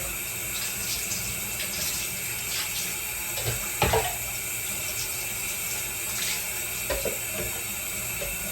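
Steady running tap water pours over a dog's thick coat, soaking the fur before shampooing, a continuous splashing wash with a few louder bursts and no talking.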